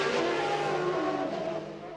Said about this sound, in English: The cars were fired up and sent out to qualify.